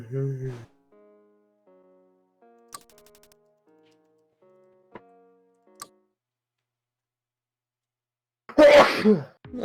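A single sharp, loud sneeze bursts out near the end after a quiet stretch of faint electronic beeps and tones, with a short voice heard at the start.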